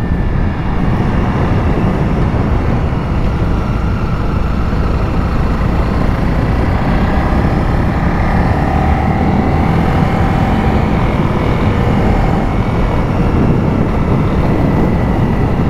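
Honda CRF 300L motorcycle cruising steadily along a mountain road in Cebu, Philippines, at moderate speed, with a continuous low engine drone and wind rush throughout, no speech.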